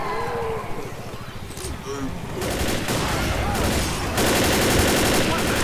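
Rapid gunfire in the video game Left 4 Dead, dense crackling bursts that grow louder and more continuous in the second half, with people talking under and over the shooting.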